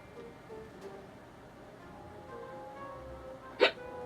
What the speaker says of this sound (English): I have like hiccups